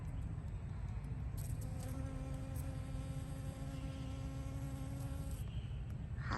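A bee buzzes steadily in a rose garden in Vietnam, a close, continuous drone with a clear humming pitch that holds throughout, over a constant bed of outdoor background noise.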